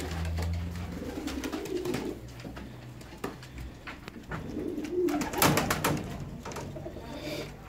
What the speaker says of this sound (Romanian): Vedeți porumbei?